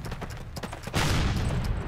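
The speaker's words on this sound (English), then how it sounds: "This cannon's about to go boom!" A cannon blast and a burst of gunfire in the Call of Duty Brecourt Manor mission: dense rattling shots, then a loud, sustained explosive roar about halfway through.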